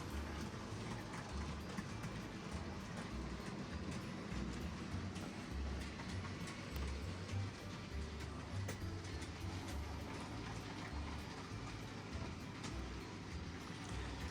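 A model railway goods train with a 20-ton brake van running around a track, a steady rolling rumble with fine rapid clicking from the wheels over rail joints, continuous and fairly faint.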